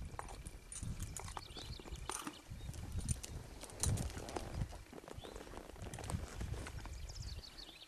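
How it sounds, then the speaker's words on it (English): Ponies clip-clop along a mountain trail on the Rhododendron Gap Trail, their hooves thudding in an uneven walking rhythm close by, with rustling and outdoor noise around them. "We did find some ponies"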